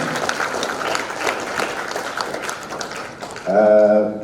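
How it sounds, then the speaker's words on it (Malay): Applause from a Malaysian conference audience for the organisers, a scattered, moderately loud patter of clapping that thins out before a short tonal sound cuts in at the end. "kita bagi tepukan kepada penganjur LKTN untuk persidangan hari ini yang paling kuat"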